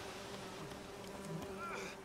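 Bees buzz in The Witcher 3: Wild Hunt, a faint, steady insect drone from the game with a few small tonal chirps mixed in.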